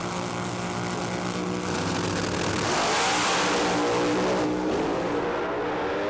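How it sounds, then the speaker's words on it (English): A hot-rodded 1927 Ford Model T altered race car with a funny car engine roars at a drag strip, a loud, sustained engine howl that builds in intensity and holds at full throttle before easing slightly, with no talk. "It's got a funny car engine in it, and it's fast."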